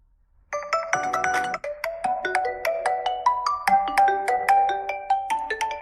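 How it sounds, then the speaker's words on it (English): A bright electronic system ringtone from an Honor WIN RT phone plays alone, a steady melodic pattern of repeating chime notes, clear and close. "The system ringtones for Sim 1 and Sim 2 are different."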